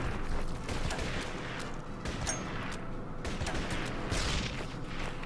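Artillery and rifle fire from units in the wartime strategy game Order of Battle: Panzerkrieg, a dense, continuous rumbling fusillade with scattered sharper cracks over a constant battle bed.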